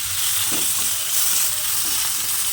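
Fenugreek seeds and garlic cloves fry in hot oil with a steady, fairly quiet crackling sizzle, close up and alone.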